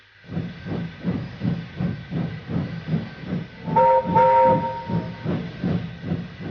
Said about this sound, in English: Everyone knew that whistle, and a mighty cheer went up as the Queen's train glided into the station.